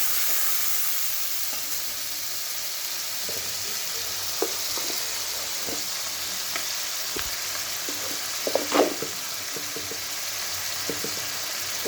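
Pointed gourd (potol) sizzling in hot oil in a pan while being prepared for a dahi potol curry, a steady frying hiss with occasional stirring scrapes and clinks, no talking.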